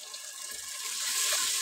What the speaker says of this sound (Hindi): 1 कप पानी शामिल करेंगे।